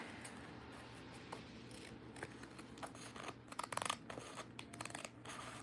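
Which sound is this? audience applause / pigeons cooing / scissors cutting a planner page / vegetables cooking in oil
scissors cutting a planner page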